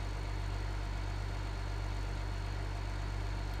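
A tractor engine in Farming Simulator 2015 idles at a steady low rumble, unbroken and alone, with no talk over it.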